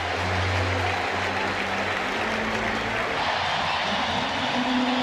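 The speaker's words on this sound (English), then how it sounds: "It's getting louder as the game goes along for the big crowd here at Camden Yards" A big baseball crowd at Camden Yards during Game 4 of the 1997 ALDS, Mariners at Orioles, makes a dense, steady roar that stays loud throughout the few seconds.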